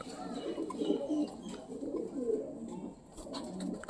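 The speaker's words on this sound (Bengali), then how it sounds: "এমনি পায়রা কি করে সামনে থাকে বন্ধুরা, আর রানী চলে আসছে পেছনে।" Soft, low pigeon cooing rolls on in repeated throaty phrases, close and gentle, with faint background noise.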